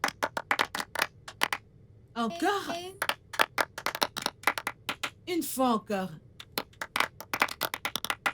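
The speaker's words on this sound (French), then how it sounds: "Un tonnerre d'applaudissements pour tout le monde." A classroom of students claps in sharp, ragged bursts. Speech breaks in briefly twice between the rounds of claps.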